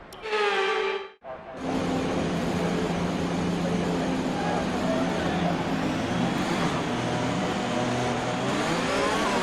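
An F1 car engine in the F1 2021 video game, a short high rev that cuts out briefly, then a continuous loud engine roar that climbs in pitch as it runs up through the gears.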